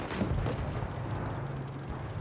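A single heavy tank cannon boom in World of Tanks Blitz, deep and muffled, with a low rumble lingering beneath.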